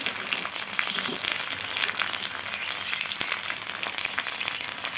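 Tomato with ginger, garlic, green chilli paste and salt fries in a pan, giving a dense, even sizzle that stays steady and moderately quiet throughout.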